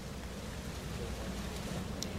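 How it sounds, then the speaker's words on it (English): Heavy rain falling during a tornado storm in central Virginia, a steady dense hiss of downpour on surfaces, faint and continuous with no voices. "And all that rain dumped flooding in the area."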